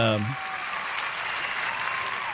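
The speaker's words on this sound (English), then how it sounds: "y'all clap right quick" An audience claps briefly at a live radio show broadcast, a short burst of scattered applause under a speaking voice.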